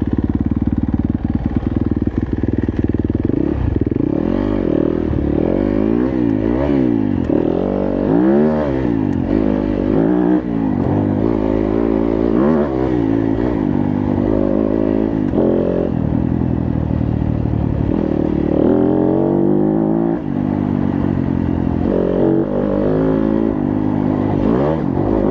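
A 2018 Yamaha YZ250FX dirt bike rides a trail, its engine revving up and down continuously and loudly close by, with rising and falling pitch sweeps as the rider works the throttle, over steady rattle and wind.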